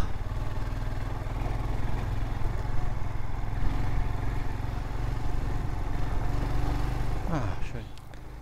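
A Royal Enfield Himalayan motorcycle is ridden in second gear along a French off-road trail, its engine holding a steady mid-pitched drone throughout before easing off briefly near the end.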